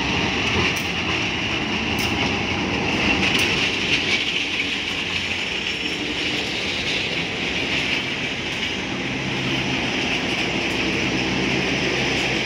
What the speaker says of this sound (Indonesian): di sini kereta api Sri Tanjung bersilang dengan kereta api Mutiara Timur dari Pasar Turi ke Banyuwangi